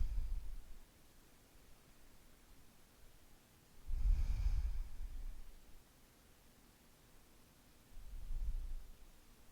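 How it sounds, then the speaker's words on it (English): Slow, relaxed breaths during a yoga session, three soft, airy exhales spaced a few seconds apart, close and quiet against a hushed room. "Take a couple of breaths here. Just let everything relax. And slow breaths."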